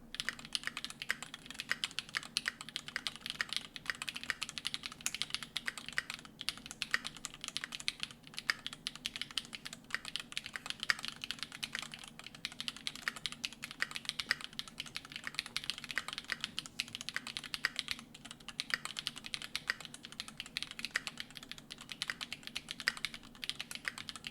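Steady, continuous typing on a Keychron Q2 custom mechanical keyboard: a dense, even run of key clacks heard close and alone, with no talking.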